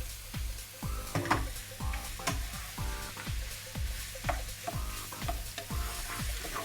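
Minced meat frying in its own fat for a Caribbean patty filling, with a steady sizzle and repeated scraping stirs of a utensil through the pan, close and continuous.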